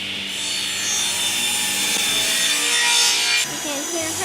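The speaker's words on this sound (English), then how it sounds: "digging holes in some wood" A hand tool digs holes in a piece of wood in a workshop, making a continuous rasping, scraping friction sound with steady loudness and a brief shift near the end. No talking.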